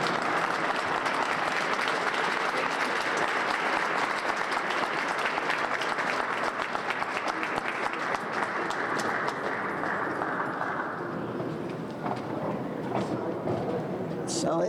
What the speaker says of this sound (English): give one more round of applause to the Reverend Willie Bodrick II